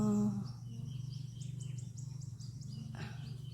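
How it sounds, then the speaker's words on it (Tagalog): Small birds chirp repeatedly outdoors near a guava tree, with rapid, fairly close high calls over a low background hum. "Ay, mga ibon."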